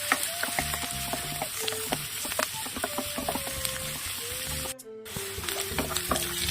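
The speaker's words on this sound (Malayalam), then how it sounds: "കുറച്ച് കറിവേപ്പിലയും കൂടെ ചേർത്ത് ഇതൊരു മീഡിയം ഫ്ലെയിമിൽ ഒന്ന് വരട്ടിയെടുക്കുക." Onions and curry leaves sauté in a pan over a medium flame for a spicy mutton curry, giving a steady close sizzle with scattered stirring clicks and a brief dip midway, with no talking.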